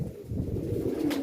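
Pigeons coo in a low, continuous burbling chorus from a loft of pigeon breeds, fairly close and steady throughout, with a brief brighter rustle near the end.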